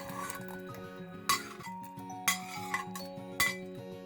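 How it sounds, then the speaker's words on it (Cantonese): Soup ingredients such as carrots, peeled chestnuts, snow fungus and agaricus mushrooms dropped into a pot of hot water, giving a few sharp clinks and knocks of the pot over soft background music. "首先煲一煲熱水，將所有材料放落去"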